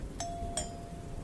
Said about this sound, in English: then rang the doorbell